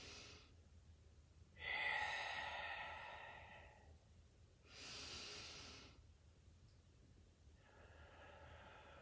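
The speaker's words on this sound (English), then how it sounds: "So nice big inhale." Deep breathing during a Pilates session: slow, audible breaths in and out near the microphone, a long rushing inhale followed by a shorter exhale and a fainter third breath, with quiet gaps between.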